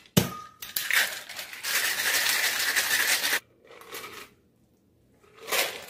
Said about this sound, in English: Then give it a good shake.